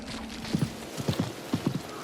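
Horse hooves clip-clop at a steady walking rhythm as a mount is ridden in Diablo 4, about eight distinct thuds close by over a low background hum, with no talking.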